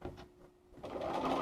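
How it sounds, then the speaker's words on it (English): A Bernina 802 sewing machine sews a seam, running with a steady whirring hum that starts softly, dips, then grows louder and denser toward the end, close by with no talking. "So I'm just going to sew along here, and again, my eyes are going to be on the side where the seam allowance line is."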